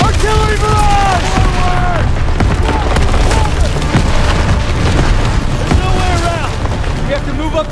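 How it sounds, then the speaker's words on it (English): Artillery barrage explosions rumble and boom one after another in a Call of Duty: WWII battle at Hill 493, loud and heavy, layered with gunfire and soldiers shouting over the chaos. "Artillery barrage!"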